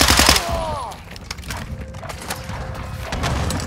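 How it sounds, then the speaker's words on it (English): Video game gunfire from Call of Duty Modern Warfare 2, a burst of shots at the start followed by scattered mechanical clicks and softer distant fire under a steady background hum. "Taking effective fire!"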